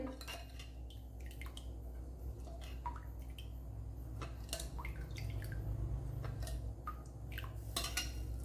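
Batter ladled into a hot pan for a Kerala-style breakfast, with clinks of the ladle against the bowl and pan, wet drips and splashes over a low steady kitchen hum, close by and without speech.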